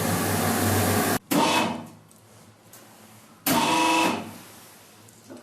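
A tahini grinding machine crushing poppy seeds into paste runs in loud mechanical bursts, cutting out briefly and starting again, with a quieter hum between the runs.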